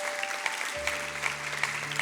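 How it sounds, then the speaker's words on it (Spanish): A church congregation applauds during a Tuesday service, producing a steady patter of many hands clapping with a low sustained tone entering partway through. "Dele palmas fuerte al Señor."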